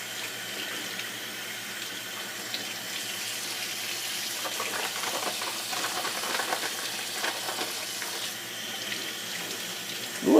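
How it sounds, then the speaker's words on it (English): Cold tap water runs steadily into a kitchen sink while saltfish is rinsed for ackee and saltfish, a constant close splashing hiss with no talking until a brief thump at the end. "So just take the time to rinse off the fish."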